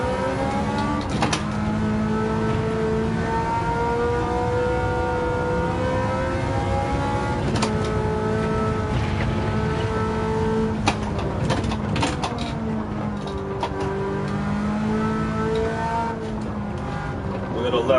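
Ferrari F40 accelerating hard out of first gear at Suzuka in a JGTC race, a loud rising engine scream with harmonic sweeps climbing through the revs, with talk over it.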